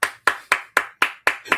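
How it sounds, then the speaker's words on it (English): Hand clapping, seven sharp claps in a steady, even rhythm, close and alone with no talk over them. "they start clapping"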